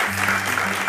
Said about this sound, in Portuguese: Podem bater palmas, podem bater palmas.